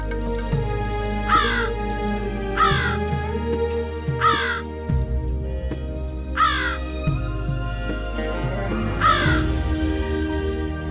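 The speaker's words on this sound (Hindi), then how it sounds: "कौवा छत पे काव काव काव काव करे जा रहा है।" A crow caws from a rooftop in repeated harsh calls, several bursts spaced a second or two apart, heard clearly over a steady background hum.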